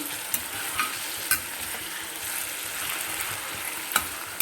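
Potato pieces fried in oil and stirred in a pan: a steady soft sizzle throughout, with occasional sharp scrapes and clicks from the stirring utensil, close and fairly quiet, no voices.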